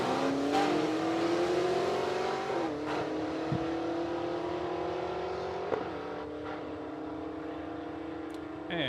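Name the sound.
Mustang drag cars launching and racing down the strip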